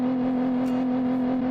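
Small-displacement V8 of a lifted car driven in BeamNG, a steady low idle-like drone with an even, unchanging pitch, close and continuous over the brief moment.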